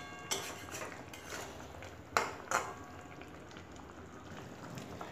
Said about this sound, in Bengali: ডিমটা দিয়ে হালকাভাবে একটু নাড়াচাড়া করে দেব।